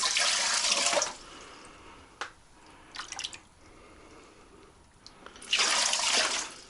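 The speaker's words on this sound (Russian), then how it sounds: "заливаем водички, ребята" Water pours into an autoclave in two loud gushing bursts at the start and end, with quiet drips and clinks of metal in between.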